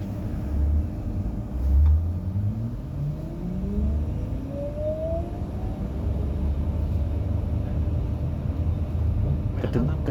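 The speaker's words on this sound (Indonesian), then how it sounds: "Oh, angkatan awal motor listriknya." An electric intercity bus on the Cilacap–Jogja route pulls away, its motor whine climbing steadily in pitch over a constant low road rumble, close and moderately loud throughout.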